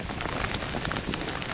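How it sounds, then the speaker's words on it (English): Heavy rain pours down steadily during a storm on an exposed hilltop, a dense, continuous hiss of drops close to the microphone with no voices. "Yeah, it's pretty heavy, this rain."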